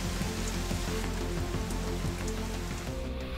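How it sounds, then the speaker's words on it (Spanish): Heavy rain pours steadily and loudly in Valdivia, a dense, unbroken hiss and patter of drops on surfaces with no pauses and no voices. "Con la intensa lluvia que ha caído en las últimas horas"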